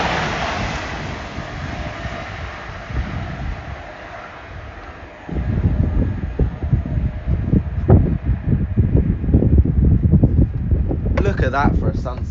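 Wind buffets a camera microphone at a trackside spot on the East Coast Main Line in York, a steady low rumble that grows rougher and louder partway through, with brief gusty bursts.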